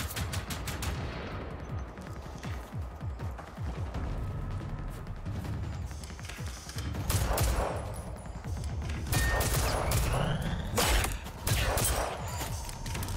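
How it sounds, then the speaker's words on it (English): Robot enemy in Generation Zero opening fire, long rolling bursts of rapid gunfire that build into sharper, louder volleys with heavy cracks and metallic impacts, continuous for several seconds. "He goes into his little firing thing regardless."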